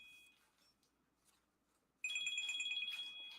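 A smartwatch rings with an incoming phone call, its electronic ringtone cutting in suddenly and repeating in a steady pulsing pattern after a quiet stretch of faint background noise.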